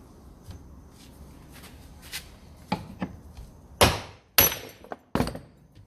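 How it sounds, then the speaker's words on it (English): A big hammer strikes steel while a flint striker is being made, landing a few sharp, ringing blows near the end after quieter taps and handling noise. "Big ass hammer."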